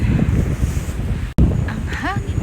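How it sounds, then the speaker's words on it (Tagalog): Strong, cold wind roars and buffets the microphone in constant low rumbles while walking home outdoors in Denmark, with a brief dropout midway and a few faint chirpy tones near the end. "Ang hangin sa labas."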